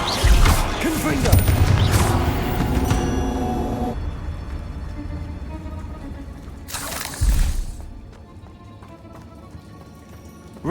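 Confringo blasting spell in the Hogwarts Legacy video game: booming fiery explosions with crashing impacts, loud and close, dense in the first seconds, then one more blast, over game background sound.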